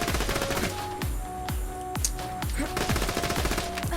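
Rapid shots from the Righteous Stalker, a Vladoff pistol in Borderlands 2, crack in a steady quick rhythm of about two per second, loud and close over a constant game background with no talk.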